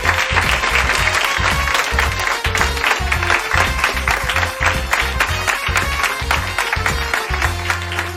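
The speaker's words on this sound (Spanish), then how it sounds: "Un aplauso para Pepe Columbia" A studio audience at the Parking Karaoke show applauds guest Pepe Colubi, the dense clapping blended with a loud, pounding musical beat that carries on throughout.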